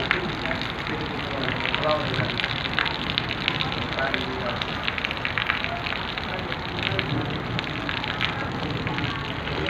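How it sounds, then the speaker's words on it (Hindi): Heavy storm rain pours down steadily and loudly, a dense, unbroken hiss and patter of drops that continues throughout. "बारिश देखें कितनी बड़ी तेज़ और शदीद तूफानी बारिश है।"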